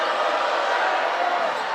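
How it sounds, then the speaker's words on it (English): A high-school boys varsity basketball crowd in a gym reacts angrily to a referee's call, a steady broad roar of many voices booing and grumbling, loud and unbroken. "Darien's crowd is mad over that one, as they were looking for a call to go their way, and it didn't."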